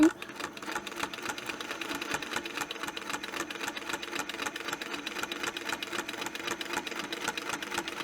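A sewing machine runs steadily while stitching a quilting pattern with a Westalee ruler, giving an even, continuous, close-up mechanical whir from start to finish with no talk.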